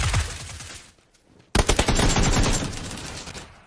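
Automatic weapon fire in the video game PUBG on Xbox One X: a dense burst that fades out, a short lull, then an abrupt, loud sustained rattle of rapid shots carrying to the end.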